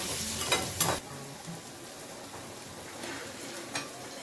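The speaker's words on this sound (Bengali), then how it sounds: "হালকা একটু আলুটা ফ্রাই হয়ে গেলে, যেহেতু আলুটা অলরেডি সেদ্ধ করা রয়েছে, হাফ বয়েল আছে," Half-boiled potatoes frying in a pan, a quiet steady sizzle with a couple of brief stirring scrapes near the start and one later, no speech.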